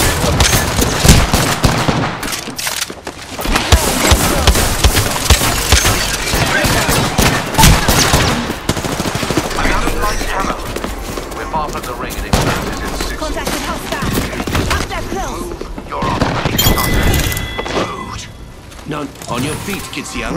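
Apex Legends gunfire crackles in dense rapid bursts with mechanical reloading clicks, loud and continuous, while in-game character voices talk over the action.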